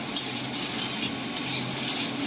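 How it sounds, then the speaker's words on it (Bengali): Soybean chunks frying in hot oil with a little turmeric in a kadai, giving a steady bright sizzle with light stirring scrapes and a few soft clinks of a spoon against the pan, close up and without talk. "আমি এখন সয়াবিনটা ভাজবো"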